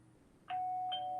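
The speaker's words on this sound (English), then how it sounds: "someone's ringing my doorbell at my house." A house doorbell rings with a clear two-tone chime: a first note strikes and then a higher second note follows, both ringing on steadily. It is loud and close over a low background hum, with no talking.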